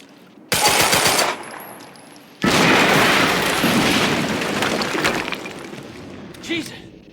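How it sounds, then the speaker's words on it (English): A loud explosion and a sustained burst of rapid gunfire in the Quantum Break video game, with shattering debris and booming impacts. The blasts are close and dense, and voices speak in the mix. "HQ, we just heard an explosion near the harvesting perimeter."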